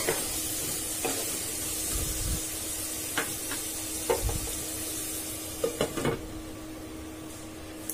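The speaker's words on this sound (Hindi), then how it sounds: "आलू को हमें एक बार चला लेना है और इसको फिर से कवर कर देना है" Potatoes fry in a pan with a steady hiss and sizzle. A spoon stirs them now and then with scraping and clinking knocks, most of them in the second half.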